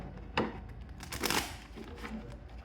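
Quick riffling and soft slapping of tarot cards being shuffled, a few short bursts of papery flutter close by.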